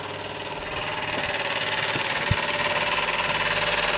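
A Czechoslovakian Ites model steam engine runs steadily close by, with a fast rhythmic chuffing and mechanical rattle and one brief knock.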